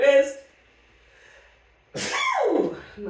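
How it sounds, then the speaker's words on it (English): A person sneezes loudly and close during a seated chair exercise session, a sharp burst following a quieter stretch after some earlier talking. "I've got another sneeze coming."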